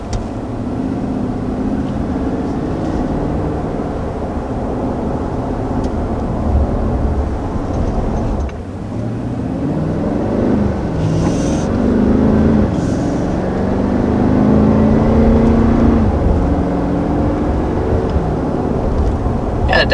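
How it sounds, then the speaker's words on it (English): A 2020 Nissan Titan pickup's V8 engine accelerates, its steady, loud drone rising through the gears with a brief dip partway through as it quickly picks up speed. "It definitely has a good sound and gets up to speed pretty quick."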